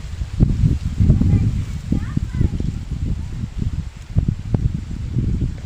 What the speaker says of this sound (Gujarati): પવન જો કેટલો નીકળે છે